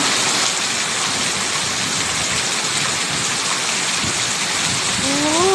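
Steady, dense heavy rain pours down on a farm as a constant hiss, with a brief faint tone near the end.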